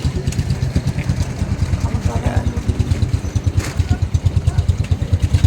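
A motorcycle engine idles close by with a loud, steady, rapid chugging pulse throughout. A voice speaks briefly over it.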